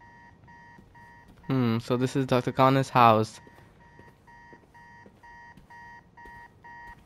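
An alarm beeps inside Dr. Connors' house in the PS5 game Spider-Man 2, a steady run of evenly spaced electronic beeps that is interrupted by a few seconds of someone talking and then resumes.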